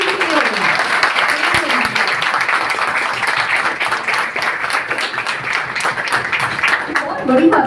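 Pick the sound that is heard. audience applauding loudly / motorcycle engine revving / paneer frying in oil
audience applauding loudly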